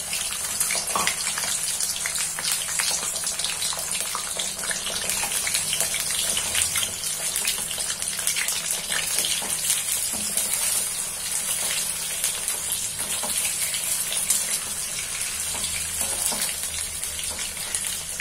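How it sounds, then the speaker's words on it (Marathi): Potatoes shallow frying in hot oil, giving a steady, dense sizzle that runs without a break from start to end, close and fairly loud, with no talk over it. "याच्यात आपण सर्वप्रथम हे बटाटे थोडेसे शॅलो फ्राय करून घेणार आहोत"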